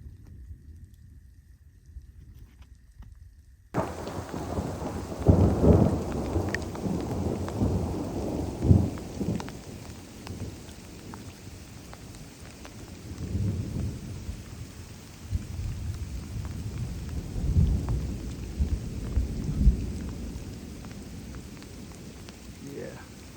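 A thunderstorm with rain in a meadow on an elk hunt, steady rainfall hissing throughout while deep rumbles of thunder roll in repeatedly at moderate distance, after a short quiet opening.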